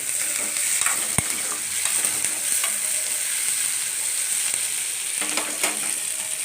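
Tomatoes sauté in a pan for sambar, giving a steady, even frying hiss close by, with a single sharp click early on and no talk.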